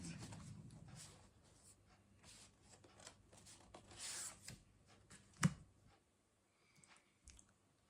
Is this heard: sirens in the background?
no